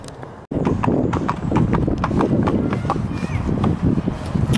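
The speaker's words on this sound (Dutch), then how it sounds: "En hier zijn nog meer paarden." Horses walking outdoors on a trek, hooves clip-clopping in a steady uneven rhythm, fairly close and loud, with light rustling and some background voices mixed in.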